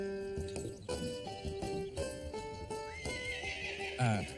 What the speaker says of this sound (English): is attempting to coax Sula, his 5-month-old filly foal, into a trailer for the first time.